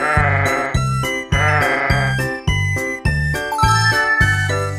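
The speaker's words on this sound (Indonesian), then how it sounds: "Domba." A sheep bleats loudly and close in a rapid series of wavering calls, with a bright jingling bell tinkling along with them.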